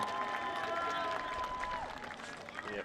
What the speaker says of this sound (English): last round of applause for number 58, Darnell Woodson.